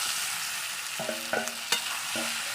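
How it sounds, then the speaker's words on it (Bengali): Chopped tomato and potato go into a pan of spices already frying for aloo dum, giving a steady sizzle with a few brief clinks and stirring knocks. No voices are heard. "এখানে মশলা আমার কষানো হয়ে গেছে আমি এবার দিয়ে দিচ্ছি টমেটো কুচি আর দিয়ে দিচ্ছি আলু"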